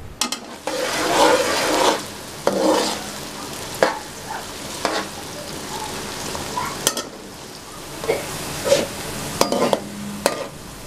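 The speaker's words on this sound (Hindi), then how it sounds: "प्याज को अच्छे तरीके से फ्राई करेंगे।" Onions frying in a pan with an even, continuous sizzle, broken by periodic scraping strokes from a stirring spoon, close and fairly loud, with no voices.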